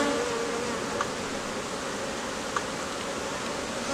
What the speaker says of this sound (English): you can hear the roar of the hive. You can hear that they're buzzing really loud.